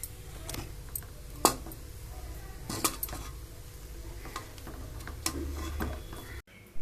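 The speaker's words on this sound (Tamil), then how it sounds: "தேங்காய் போட்டு நல்லா கிண்டணும்." A spoon stirs a thick dough of parboiled ration rice with grated coconut in a pan for Thanjavur neer urundai, giving soft scraping and occasional metallic clinks against the pan, close and fairly quiet.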